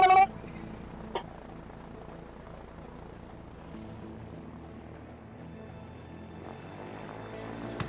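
An airplane in the video game A Way Out gives a steady, moderately loud propeller-engine drone that holds for several seconds after a brief loud burst at the start.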